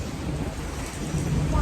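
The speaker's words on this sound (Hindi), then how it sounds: "मस्त धुआंधार बारिश हो रही है" A heavy monsoon downpour pours down during a thunderstorm, a loud, dense wash of rain with low thunder rumbling underneath, with no voices.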